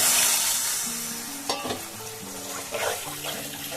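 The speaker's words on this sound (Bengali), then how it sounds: "এখন দিয়ে দেবো জল।" Warm water poured into fried masala for pumpkin kofta curry, a loud hiss and sizzle that fades, followed by bubbling and stirring scrapes in the pan, with a faint tonal hum underneath.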